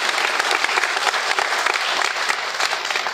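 Audience applause in a spiritual discourse hall, a steady dense wash of many hands clapping together, loud and close, filling the whole stretch without a break.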